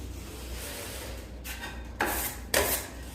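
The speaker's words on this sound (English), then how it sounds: "take a knife and do sideways strokes like that, both sides" A drywall knife scrapes joint compound sideways across an inside drywall corner in a few short rasping strokes, the last two louder and close.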